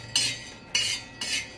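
Black peppercorns and cloves are stirred on a hot iron griddle with the gas turned off, giving three brief dry scraping strokes spaced about half a second apart, fairly quiet.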